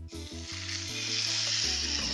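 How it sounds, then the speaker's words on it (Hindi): Chicken pieces laid into a pan with a few spoonfuls of hot oil sizzle and fry with a steady, bright hiss that grows slightly louder, close by, with faint kitchen clatter and no talk. "इसमें चिकन के पीसेस रख देते हैं।"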